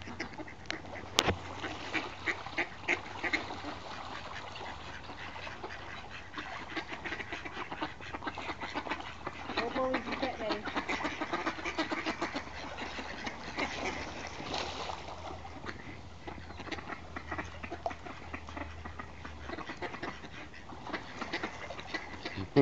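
Ducks quack repeatedly while fighting and chasing each other on water, a busy, fairly close mix of calls running throughout over a low steady hum.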